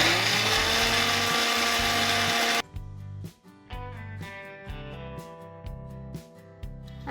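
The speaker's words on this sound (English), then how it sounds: "You can grind it to a very fine powder or you can grind it coarsely." An electric kitchen grinder whirs loudly as it grinds toasted white bread slices into breadcrumbs, one long steady run followed by a series of short pulsed bursts with brief pauses between them.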